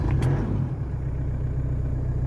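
A Toyota Hilux N70 engine idles steadily after starting, a close, loud low rumble with a brief higher burst at the start, then an even running drone.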